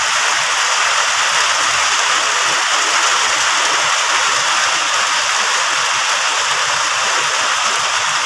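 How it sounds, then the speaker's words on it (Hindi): Heavy rain pours steadily in the Himachal hills, a loud, unbroken hiss of water drumming on surfaces with no pauses. "इतनी ज़्यादा बारिश लगी है।"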